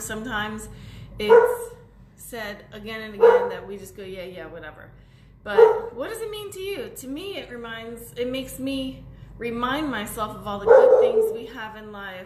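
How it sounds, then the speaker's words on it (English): A dog barks in the background in several separate bursts, some sharp and some yelping, while a person keeps talking over them indoors. "Sorry for that dog."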